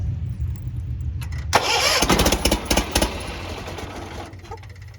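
A John Deere 400 hydrostatic garden tractor engine cranks and catches, starting up loud and close after a low idle rumble, then running rough with sputtering bursts before settling back down.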